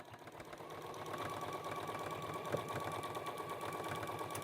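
A sewing machine stitches across a flannel rice-filled neck wrap with a steady, rapid mechanical whir and fine clatter, close and continuous, with a single small clunk midway.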